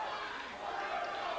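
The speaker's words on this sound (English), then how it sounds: "Fans are cheering for Orndorff." Wrestling fans in an arena crowd cheer for Orndorff at a 1990 UWF show, a steady, dense roar of voices without letup.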